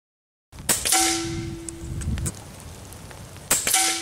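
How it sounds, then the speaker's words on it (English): Two sharp reports from a Dreamlight Compact 25 rifle fired at 35 yards, each followed by a ringing metallic ping, close and loud, with a quieter tick between them. "Right here's some shooting I did at 35 yards with the Dreamlight Compact 25."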